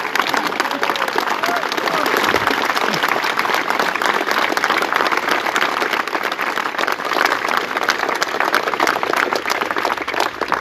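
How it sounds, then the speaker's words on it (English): Sustained, loud applause from an audience gathered for the unveiling of a gravestone to William Blake, a dense continuous wash of many hands clapping that fills the whole stretch without letting up. "Could we have one more big round of applause for all of the people who have shared with us?"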